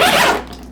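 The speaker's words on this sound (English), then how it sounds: "These ones are much easier to turn and much easier to zip up and down." A single quick zip on a piece of Away luggage, loud and close, its rasp fading out within a fraction of a second.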